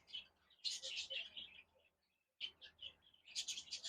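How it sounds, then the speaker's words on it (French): Small pet birds chirp indoors in quick high twittering bursts, fairly faint, with a short pause midway before the chirping resumes. "excusez-moi pour mes oiseaux"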